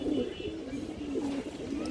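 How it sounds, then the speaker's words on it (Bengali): A female pigeon at a pigeon farm coos in low, wavering, repeated notes close by, with faint voices in the background. "একটা খুবই সুন্দর মাদি কবুতর মাসাল্লাহ এটা একটা কাজ করা মাদি কবুতর"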